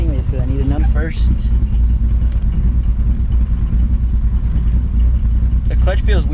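A drift car's engine runs loud and steady at idle, with gear-change clunks and brief rising revs as the driver tries to shift through the gears.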